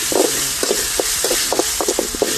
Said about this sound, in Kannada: ಶುಂಠಿ ಬೆಳ್ಳುಳ್ಳಿ ಪೇಸ್ಟು ಇವಾಗಲೇ ಹಾಕ್ಬಿಟ್ಟು ಫುಲ್ಲು ಫ್ರೈ ಮಾಡ್ಬಿಡ್ತೀನಿ